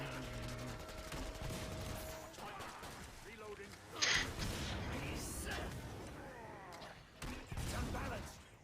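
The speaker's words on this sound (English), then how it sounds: "Shoot at it with my 9mm." Bursts of 9mm pistol fire in the co-op shooter Killing Floor 2, scattered sharp cracks mixed with game effects, heard under steady talk from players.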